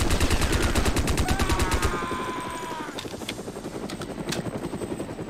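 Rapid bursts of gunfire ring out in the James Bond: Nightfire video game, loud and close, with a mechanical whine and helicopter-like thrum running underneath, no voices.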